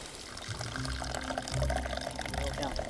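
Coffee poured into a cup on a fishing boat during a perch competition, a steady liquid stream under a continuous murmur of background voices.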